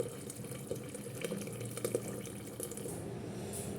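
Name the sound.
boiled water poured into pot for rice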